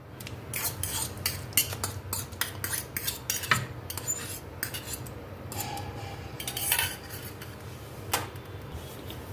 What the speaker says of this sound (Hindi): तो इन सभी चीज़ों को मिक्स कर देंगे।